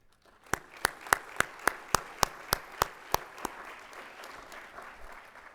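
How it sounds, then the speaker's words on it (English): At the 2015 ULM State of the University address, the audience gives a round of applause in a large hall. It begins as a string of evenly spaced, crisp claps that gradually fade into a softer, scattered patter. "give yourselves a round of applause for that work"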